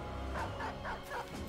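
A dog in the Battle Brothers video game gives short barks and yips, heard close over a constant low background hum.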